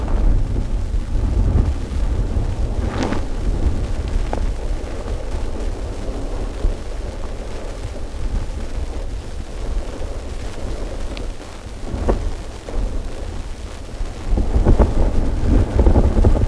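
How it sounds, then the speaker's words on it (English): Strong, cold wind on a clifftop on the Lizard peninsula buffets the microphone in deep, continuous rumbling roars. Sharper gusts break through now and then, loud and close, with no talking. "I can hardly stand up, the wind is so strong."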